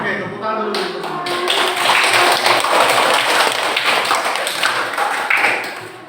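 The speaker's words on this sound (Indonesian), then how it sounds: "Oke, tepuk tangan dulu. Tepuk semangat." Fifth-grade pupils in a primary school classroom do the 'tepuk semangat' rhythmic clapping chant, quick patterned claps and taps mixed with children's chanting voices, fairly loud and continuous.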